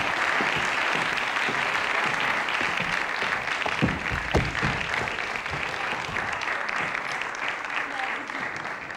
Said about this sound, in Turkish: alkışlıyoruz Özlem'i